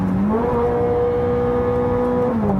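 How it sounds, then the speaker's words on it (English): Ferrari F430 Scuderia engine revving hard and climbing in pitch, with a near-instant gear change that drops the tone briefly before it rises again, loud and close with no talking. "Can it change gear faster than I can blink?"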